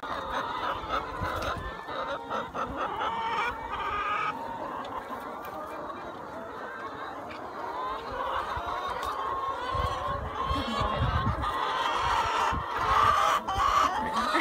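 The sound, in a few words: Wyandotte chickens clucking on a farm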